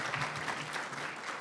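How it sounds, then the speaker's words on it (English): Audience applause at the close of a lecture at a Muslim convention in Minnesota, a steady, fairly faint wash of many hands clapping together, sounding somewhat distant with no voices standing out. "join me in giving a warm round of applause for Sheikh Nouman Ali Khan"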